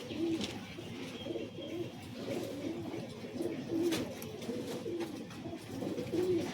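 Several loft pigeons of Giribaz, Madrasi and Malwai breeds coo in recurring low, throaty phrases against a constant murmur of other birds and faint ambient noise.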